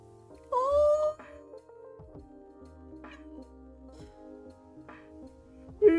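A cat character in the Coffee Talk video game gives a clear, bright meow near the start, followed by softer chirps and short mews over quiet game background tones, ending with another brief cry.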